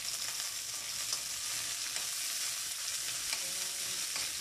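Onions sautéing in hot oil in a wok, a steady bright sizzle and crackle close by with occasional stirring scrapes, no talk.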